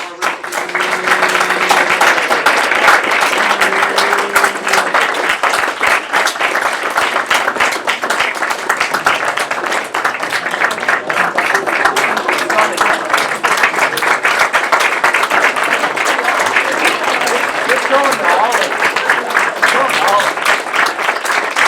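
Sustained audience applause fills a student government association gathering, dense steady clapping with cheers throughout, while voices briefly talk over the start.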